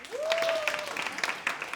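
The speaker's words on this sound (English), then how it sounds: "Ladies, I want you to clap if you've lived with your significant other for like longer than 2" Women in a stand-up comedy audience clap in a short burst, scattered hand claps under a brief vocal whoop from the crowd.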